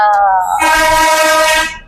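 A loud, close train horn sounds in one sustained blast aboard the Sealdah to New Jalpaiguri rail journey, with a short higher tone just before it and background rumble underneath.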